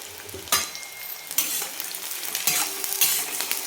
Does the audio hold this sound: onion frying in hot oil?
yes